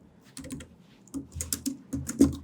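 Quick bursts of typing on a computer keyboard while writing Python code, clustered key clicks close by, with short pauses between runs.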